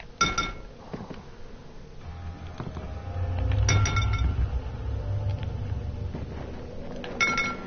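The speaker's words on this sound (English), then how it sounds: "Oh no, they're shards of glass." Glass shards in a video game clink sharply in a few bright bursts, first near the start, then mid-way and again at the end, over a low rumbling background.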